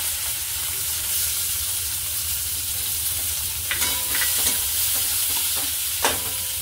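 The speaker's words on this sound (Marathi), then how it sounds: "आता आपण टाकूया अर्धा चमचा जिरं, 2 मोठे बारीक चिरलेले कांदे" Cumin and finely chopped onions fry in hot oil for an Arbi masala, a constant close sizzle with a few clattering stirs toward the end, no voices.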